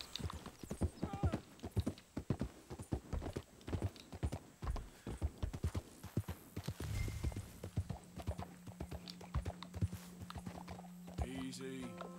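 Horse hooves clip-clopping in a brisk steady rhythm with a whinny midway, from the Western video game Red Dead Redemption 2, loud and close, with someone talking over it.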